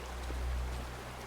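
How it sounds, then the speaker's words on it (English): Steady rushing water from a waterfall in the sci-fi video game Scars Above, a soft, continuous low roar and hiss heard alone for just over a second. "Wow, what a pretty waterfall."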